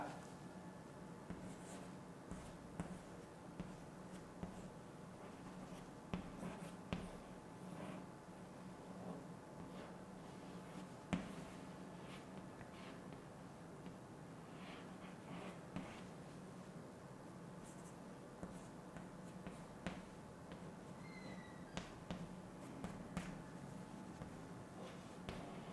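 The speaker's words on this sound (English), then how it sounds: "For example, I'll draw a map." Pen drawing a map of India on paper, soft continuous scratching strokes with small taps and pauses, faint and close, with no talking.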